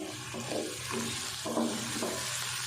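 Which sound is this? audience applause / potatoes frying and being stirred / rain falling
potatoes frying and being stirred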